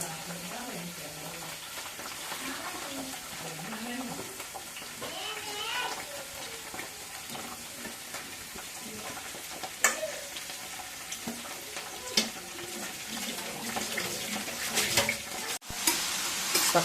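Ridge gourd pieces fry in oil and are stirred in a pan for Telugu-style chutney, making a quiet, low sizzle with soft stirring scrapes and a few louder knocks near the end.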